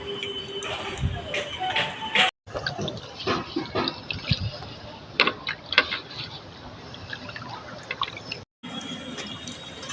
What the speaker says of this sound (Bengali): এবারে আমগুলো ভালো করে ধুয়ে নেব।